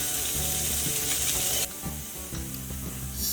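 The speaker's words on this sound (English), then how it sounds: "Now we're going to go ahead and cook this bacon until it's nice and golden brown." Bacon sizzles and crackles steadily in a hot pan, a dense, loud hiss of frying fat that runs without a break and shifts slightly partway through.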